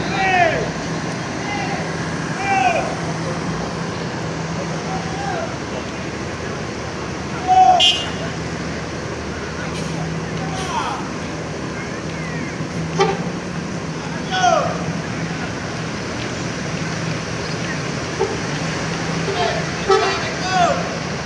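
A Gumarang Jaya bus honks repeatedly while leaving the Koto Nan Ampek terminal in Payakumbuh, short horn toots scattered over a steady rumble of engines and traffic, with people talking throughout.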